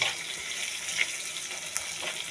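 Chili and turmeric paste fries in oil in a pan, a steady hissing sizzle that stays even throughout, with a few faint crackles and pops.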